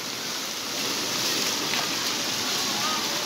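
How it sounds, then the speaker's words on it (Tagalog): Steady heavy rain falls during a storm in a Quezon City street, a dense wash of hiss that holds a constant level throughout. Faint voices mix into the downpour. "Umuulan na naman eh."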